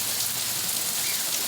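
Heavy rain with wind in São Paulo, a dense, steady hiss of downpour drumming on surfaces without a break, close and loud, with no voices.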